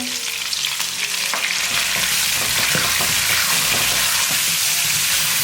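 Duck pieces stir-fry in a hot wok with cooking wine, a loud, dense, continuous sizzle close up, with scattered clacks and scrapes of the spatula tossing the meat throughout, and no talking.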